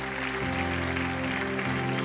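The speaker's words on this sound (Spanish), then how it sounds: "Vamos a honrar con un aplauso a ese dolor." An audience at a church sermon gives sustained applause, a steady wash of clapping mixed with held organ-like music chords throughout.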